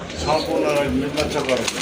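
Pigeons coo in a close, steady run of soft, rolling calls, with a voice talking over them throughout. The birds are active pigeons kept in a loft or sale enclosure.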